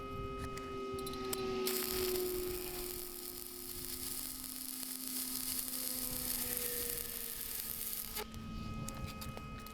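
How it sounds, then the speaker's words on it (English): Arc welding steel support pieces onto a metal base for an asado cross: a steady crackling sizzle of the arc that starts abruptly and stops after several seconds, over a constant electrical hum. "I will be welding the supporting parts onto the base"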